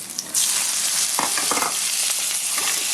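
Minced beef hits a hot frying pan with garlic and shallots for Vietnamese crispy chow mein, bursting into loud, steady sizzling after a brief quieter start, with a few scraping stirs.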